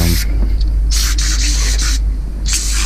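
Several short bursts of hissing spray from an aerosol can of degreaser, close and loud, over a constant low hum, with brief pauses between squirts.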